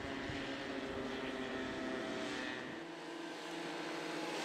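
Small go-karts driven by young children race around a track, their engines making a steady, continuous motor drone that stays loud throughout and drops slightly in pitch near the end as the karts pass.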